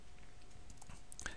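Quiet, fast keypresses on a computer keyboard while entering Cisco IOS commands at a command line, a soft, steady patter of clicks with a slightly sharper tap near the end.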